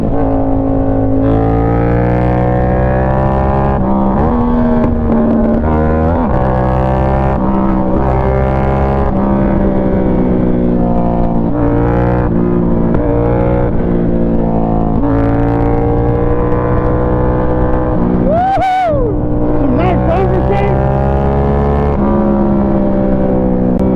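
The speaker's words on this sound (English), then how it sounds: "when my exhaust is off, I just want to listen to the bike" A Yamaha MT-07 motorcycle ridden with its exhaust removed, a loud, raw, close engine drone that rises and falls through gear changes and rev blips, with one sharp throttle burst near the end and no talk.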